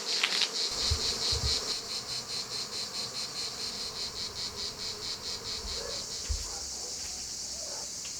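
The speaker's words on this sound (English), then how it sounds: "there are bees creating their new hive right here, right outside our door" A swarm of bees building a new hive just outside a door on a Greek summer day, a dense buzzing drone with a steady pulsing rhythm, close and continuous, with a few faint knocks.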